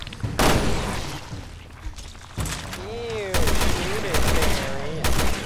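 Gunfire from the survival horror game Resident Evil Revelations 2 comes as several loud, sharp shots spaced irregularly, with creature groans and other game noises between them, and voices talking over the action.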